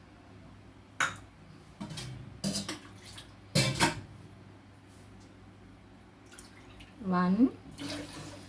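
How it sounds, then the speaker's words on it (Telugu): Water, three cups in all, is poured into a pot of smoothly mixed ragi flour for a vegetable soup, heard as short separate splashing bursts between quiet pauses while a voice counts along. "ఇది పోసేసినాక దీంతో 3 కప్స్ వాటర్ వేయాలి."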